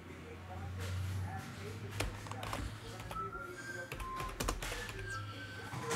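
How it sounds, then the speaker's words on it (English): Typing on a computer keyboard to enter a player search during a baseball card case break, soft rapid key clicks under a steady background hum, with someone talking over it. "Let's type in Ken Griffey Jr."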